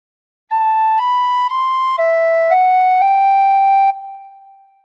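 A phrase of the Star Spangled Banner played on a tin whistle: six clear, sustained notes in a steady sequence, stepping up and then dropping lower before rising again, bright and close, with the last note fading out, no talking.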